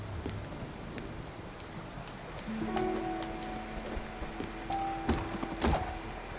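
A rainstorm in Spiritfarer, steady rain patter with faint distant rumbles, soft thunks and a few high tonal sweeps rising over the downpour.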